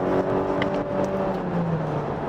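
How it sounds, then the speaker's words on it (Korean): A Volvo S60 B5 engine accelerating under kickdown, a steady loud engine drone with rising harmonic tones heard from inside the car, continuous with no talk. "이런 정도의 엔진 사운드 들으면서 움직일 수가 있습니다."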